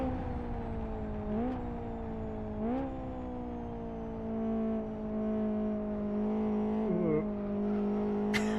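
A Fiat 128-based car mod in Live For Speed holds a raspy, high-revving engine drone with a few brief rev blips and gear changes, steady and fairly quiet with no talk.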